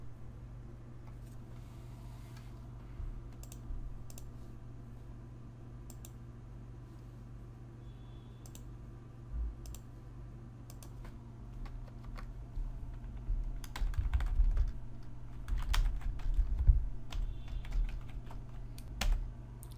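Code is typed on a computer keyboard in a quiet room, a steady run of light key clicks that grows busier and louder toward the end, with no one speaking.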